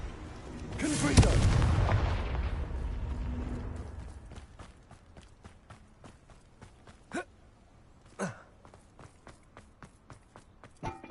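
A Confringo fire spell in the video game Hogwarts Legacy erupts in one loud, rumbling blast that fades over a few seconds, followed by sparse clicks and a couple of sharp hits.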